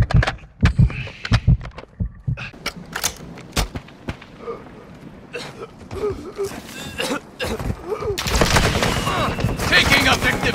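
Gunfire in Call of Duty Warzone Resurgence: sharp, loud shots ring out in quick bursts early on, then give way to a denser, busier stretch of combat noise toward the end.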